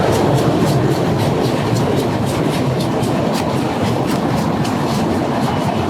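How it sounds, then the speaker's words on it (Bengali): A train rumbles steadily over the Jamuna rail bridge in Bangladesh, wheels clattering in a fast repeating rhythm, loud and close for the whole stretch, with no voices. "ব্রিজের উপরে উঠেছি এখন ট্রেন যাতায়াত করছে"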